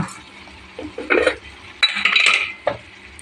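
A bay leaf and whole spices stirred in a metal pot, with a few bursts of spoon scraping and clinking against the pot separated by short quiet gaps; no speech.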